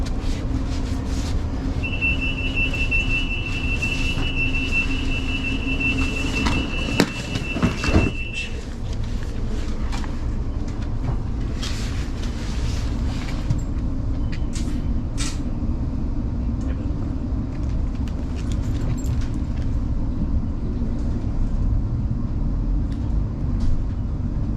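Interior rumble of a suburban commuter train stopped at Kew Bridge in London, with a steady whine, a clunk and hiss of doors or brakes, then continuous low rolling noise as it runs on.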